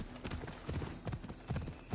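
Hooves of a super strong Hades horse in Assassin's Creed Odyssey, The Fate of Atlantis, clopping in a steady, moderately loud rhythm of repeated low thuds with no talk over them.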